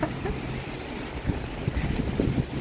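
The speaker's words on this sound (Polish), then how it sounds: "Muszę wam pokazać, jak leje." Heavy rain pours down outdoors in a steady, close, broadband wash with a low rumbling undertone, no voices over it.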